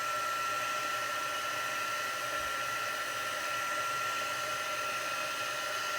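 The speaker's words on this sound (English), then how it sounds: "And now we can heat. So just hold on a minute and watch the magic. We're heating with the heat tool." A heat tool blows a steady, even hot-air hiss while melting embossing powder on a Christmas card, a constant close whoosh with no talking.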